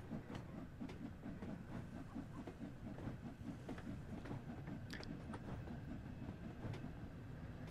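A Jubilee steam locomotive from Spirit of Steam runs toward St Ives in a train simulator game. Its steady, quiet rumble carries faint rail clicks and hiss, with no voices.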